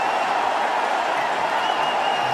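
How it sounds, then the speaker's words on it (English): A cricket stadium crowd cheers in a dense, steady roar of applause and shouting, loud and continuous throughout. "And the crowd are on their feet. They're loving it."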